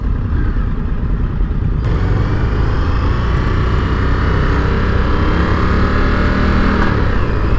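A 2021 Indian FTR 1200 Rally motorcycle being ridden, a loud continuous engine drone with heavy wind rush, no voices.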